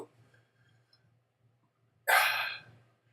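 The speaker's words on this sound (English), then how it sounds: "I can't believe I'm getting the hiccups." A single sharp hiccup bursts out suddenly after a quiet pause, loud and close, from someone eating an extremely hot Moruga Scorpion chili pepper and Sichuan peppers.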